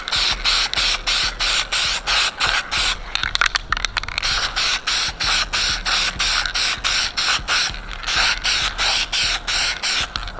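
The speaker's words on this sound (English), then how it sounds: "Then I'm gonna go ahead and throw my probably about 2 coats of clear on them." Short repeated bursts of a spray can applying clear coat to custom Cutlass dashboard parts, rhythmic hissing pulses with brief gaps, close and loud, with a rattling shake in the middle.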